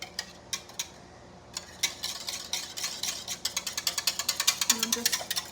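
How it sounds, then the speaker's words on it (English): Strawberry cream soy wax being whisked, a steady run of quick, light scraping strokes that starts sparse and builds into a dense, rhythmic flurry, close and fairly quiet. "And I'm just whisking that on there."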